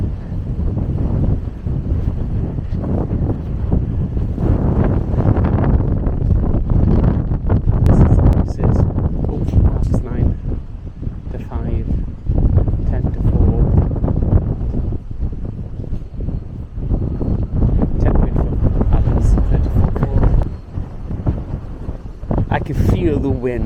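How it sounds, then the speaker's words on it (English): Strong wind at Caerphilly Castle buffets the microphone in a continuous low, rumbling roar with gusty surges, loud and close, while someone talks over it. "Feel the wind just blowing me now."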